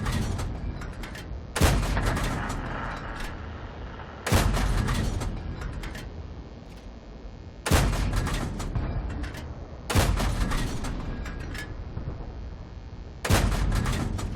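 Tank cannons firing in the video game World of Tanks: five heavy booms arrive every two to three seconds, each loud blast fading into a long rumbling tail, with no talk over them.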